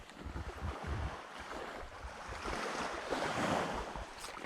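Rough sea waves break and churn against a beach during a shoreline squid-fishing outing, a continuous loud surging wash with buffeting wind noise, building toward the end.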